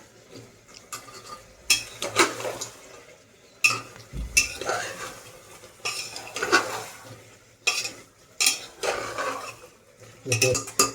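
Mutton kosha, with papaya added, is stir-fried in a pan. A spatula scrapes and clinks against the metal in repeated strokes over a soft sizzle, with light voices in the background.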